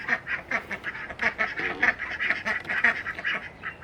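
Several ducks quack repeatedly and insistently at close range beside a pond, a busy overlapping chorus of loud nasal calls with no talking.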